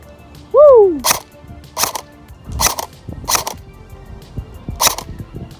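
Shots from an airsoft M4 rifle rebuilt from King Arms to G&P parts: five sharp, snappy cracks at irregular intervals of roughly a second, close and clear, preceded by a brief whooping voice.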